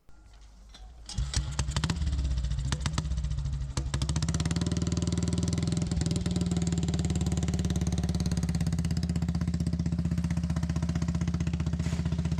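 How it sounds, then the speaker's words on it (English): A WWII British BSA M20 single-cylinder military motorcycle engine starts with a few rough coughs, then settles into a steady, loud, thumping idle nearby. "British BSA M20. As I told before, the most produced single military motorcycle of the war"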